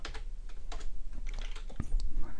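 Fingers typing on a computer keyboard, a quick run of crisp close key clicks with uneven rhythm and one sharper, heavier key press near the end.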